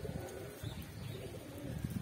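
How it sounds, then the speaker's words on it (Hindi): Pigeons coo softly in a quiet outdoor setting where birds are being flown, with faint, low murmuring calls and light chirps close by, alone and without talk. "गाइस मैंने अभी कबूतर उड़ाए हैं, मेरे दो तीन कबूतर उड़ चुके हैं,"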